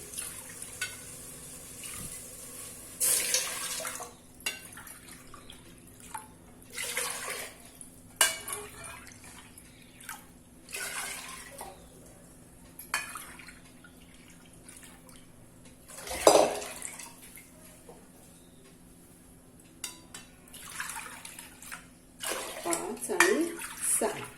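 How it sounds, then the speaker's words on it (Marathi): Six cups of water poured from a vessel onto two cups of rice being cooked for biryani in a home kitchen, with several separate splashing pours and drips against quiet background, close by and moderately loud. "आता मी दोन वाट्या तांदूळ घेतलेला आहे तर मग मी सहा वाट्या पाणी टाकणार आहे"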